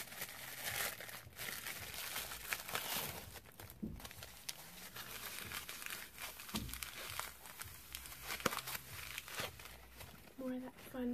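Plastic packaging from an online order crinkles and rustles in short bursts close by, with scattered crackles and tearing sounds and no speech.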